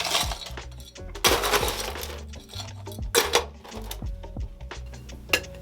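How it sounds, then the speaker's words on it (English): Ice cubes are dropped into a metal cocktail mixing tin, a run of loud clattering, clinking crashes close by, in several bursts with short pauses between, and no talking. "Then we'll just add our ice to the mixing tin."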